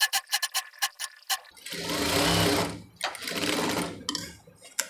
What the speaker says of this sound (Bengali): আমি এভাবে করে 1/2 ইঞ্চি করে চাপ দিয়ে সেলাই দিয়ে নেব।